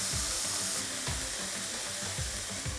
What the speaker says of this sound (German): können wir nämlich das Hackfleisch in einer Pfanne mit ein bisschen Öl anbraten